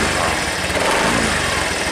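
A Yamaha fuel-injected motorcycle engine held at a steady idle with a slight throttle blip, a continuous broadband mechanical drone filling the whole stretch, up close and fairly loud.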